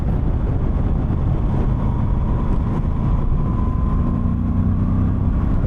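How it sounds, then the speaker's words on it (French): A Moto Guzzi V85TT motorcycle rides at night, its engine and air box giving a loud, steady, low growling drone that stays constant throughout, with no talk. "On entend bien la boîte à air sur cette moto."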